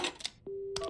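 A phone call tone in the video game Paranormasight: one steady, clean electronic tone holds for about half a second after brief game sounds, then cuts off into a burst of noise.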